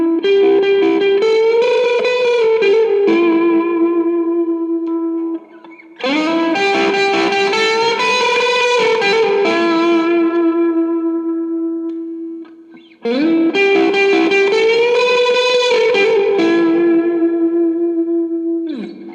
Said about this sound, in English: let's just hear a simple solo tone with the Hall of Fame reverb pedal